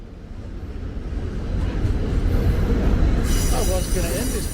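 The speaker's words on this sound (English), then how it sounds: "Hands up if you like watching trains go past." A train passes close by with a loud, building rumble of wheels on rails. Metallic squeals break in toward the end, over a steady roar.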